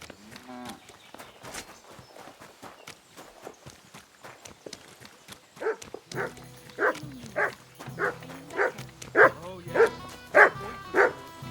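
A dog in the medieval game Kingdom Come: Deliverance II gives a run of loud, close barks that grow more frequent and forceful toward the end, after a quieter stretch of footsteps and clatter.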